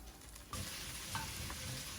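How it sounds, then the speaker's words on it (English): Mutton searing in a pot for Hungarian goulash, a steady close sizzle with faint scraping against the pot bottom, alone without talk. "Searing the last batch is extremely important to scrape off all the char that has settled down at the bottom"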